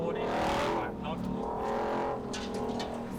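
A 777 hp 2027 RAM TRX pickup is driven on a decreasing-radius curve, its engine drone rising and falling under light throttle, with tire and road noise inside the cab and people talking over it.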